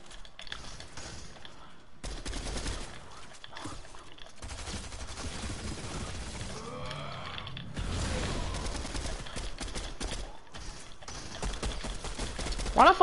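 Gunfire from a video game shooter crackles in repeated bursts through most of the stretch, mixed with game effects and voices talking over it.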